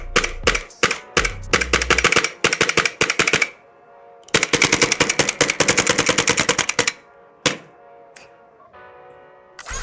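A VFC L403A1 airsoft AR rifle fires rapidly in several loud, close bursts of sharp clacking shots separated by short pauses, ending with a few single shots.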